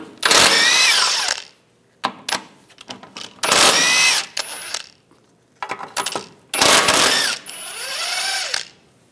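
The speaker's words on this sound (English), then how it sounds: "Using a 16 millimeter socket, we're going to take these nuts off for the ball joint." A ratchet with a 16 mm socket loosens the ball joint nuts on the front suspension of a 2010-2014 Volkswagen GTI, giving repeated close bursts of rapid metallic clicking broken by short pauses.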